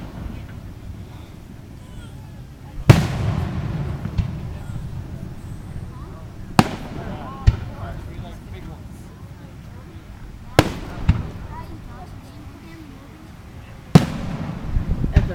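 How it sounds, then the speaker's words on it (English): Fireworks show outdoors, with four sharp loud bursts spread over the stretch, wind rumble on the mic and people chatting in between. "We're enjoying our first fireworks."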